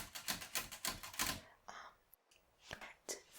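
Close, crisp typewriter keystrokes in quick irregular runs, with a carriage shift and a short pause before typing resumes, set against a quiet seaside backdrop.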